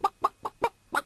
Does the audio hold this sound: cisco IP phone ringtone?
no